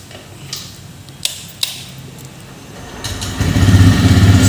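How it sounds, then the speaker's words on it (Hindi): A 2021 TVS Raider 125cc motorcycle sits quietly with a few ticks before its engine starts near the end and settles into a smooth, low, steady idle that grows louder. "देख सकते हैं गाड़ी का आवाज़ कुछ इस तरह का है, एकदम स्मूथ आवाज़ है।"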